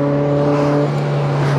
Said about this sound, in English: something about the 458 is just more special. And actually something is, it's that engine.